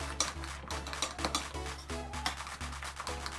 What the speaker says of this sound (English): So I'm going to give it a good stir again.